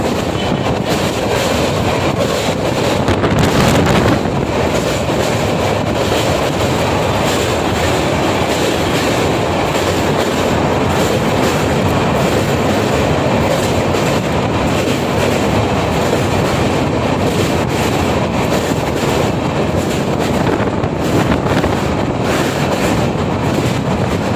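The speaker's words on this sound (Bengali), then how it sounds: "এই মুহূর্তে আমাদের ট্রেন এগিয়ে যাচ্ছে ডানকুনির পথে" The Kanchanjanga Express, with LHB coaches, rumbles along the tracks at speed near Bally Bridge, a loud continuous roar with rattling wheels and buffeting wind, no voices.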